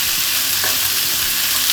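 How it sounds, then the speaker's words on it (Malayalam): Chopped tomatoes and curry leaves fry in hot oil in a pan while being stirred. The sizzle is loud, dense and continuous, close up, with no voices. "ഇത് നല്ലതുപോലെ ഒന്ന് ഇളക്കാം"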